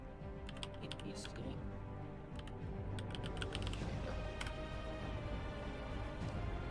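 Clicky keystrokes tap out a short command on a computer keyboard in a Linux terminal, coming in uneven bursts over a low background hum while someone talks through part of it.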